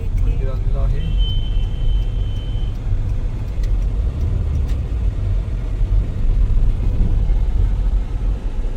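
A car engine rumbles steadily and close while the vehicle is maneuvered into a parking spot at a hilltop temple, with low road noise throughout.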